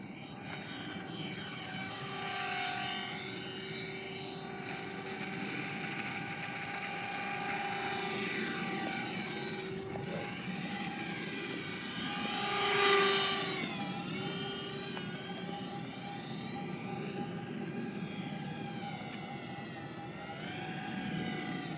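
A Hot Wheels Sky Shock RC transforming flying car flies overhead outdoors, its small electric propellers giving a continuous high buzzing whine that rises and falls in pitch as it passes, swelling loudest midway.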